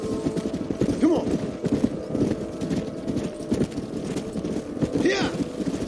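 Horses' hooves clip-clopping steadily in Red Dead Redemption, a dense, continuous trot from several animals close by, with occasional voices and snorts mixed in.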